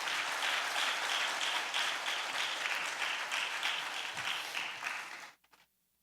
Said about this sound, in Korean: 박수로 한번 환영했으면 좋겠습니다.